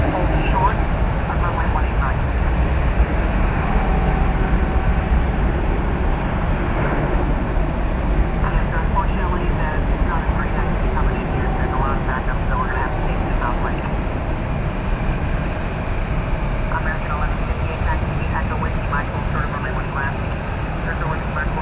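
A United Boeing 737 MAX 8 jet passes at a busy airport, a steady broadband engine roar that holds for the whole stretch with some distant background murmur and talk mixed in.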